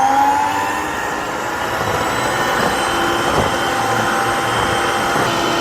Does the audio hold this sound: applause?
no